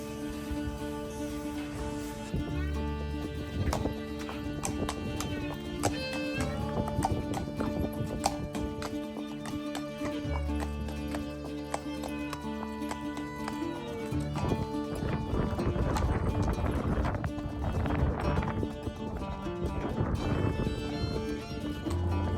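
A horse's hooves clip-clop steadily on hard ground, with a neigh, as it is led to a truck, over a loud bed of background music with a steady tonal drone.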